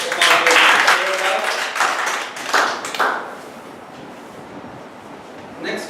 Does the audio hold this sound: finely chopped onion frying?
no